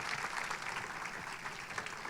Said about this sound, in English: let's have a great round of applause for this panel